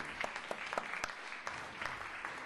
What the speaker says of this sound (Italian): io vorrei un applauso.